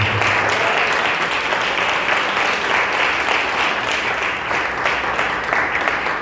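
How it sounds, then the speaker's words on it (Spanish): A church congregation breaks into sustained, dense applause that stays steady and loud throughout, with no talking over it. "Denle un buen aplauso a Cristo, por favor."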